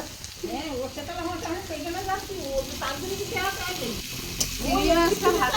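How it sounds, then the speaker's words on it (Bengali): Prawns fry in hot oil in a kadai, giving a steady, close sizzle and crackle while someone talks over the cooking throughout. "চিংড়ি মাছ ভাজাটা ভেজে নেবো"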